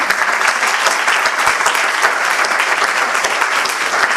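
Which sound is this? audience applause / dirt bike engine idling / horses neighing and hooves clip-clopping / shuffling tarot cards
audience applause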